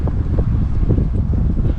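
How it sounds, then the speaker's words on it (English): Strong wind buffets the microphone in a steady, heavy rumble that continues throughout, with no voices. "It's very, very windy today."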